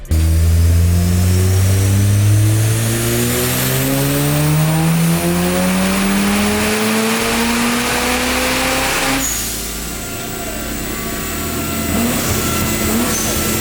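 A Mazda RX-7 with a 20B three-rotor rotary engine screams on a dyno, its loud, close pitch sweeping steadily upward through a long pull, dropping briefly, then climbing again.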